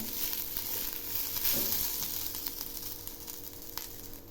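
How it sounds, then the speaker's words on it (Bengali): Rice frying and being stirred in a pan for prawn pulao gives a steady, close sizzle with occasional scraping stirs throughout. "আবার একটু নেড়ে দিচ্ছি। এই চালগুলো খুব ভালো করে ভেজে নেব।"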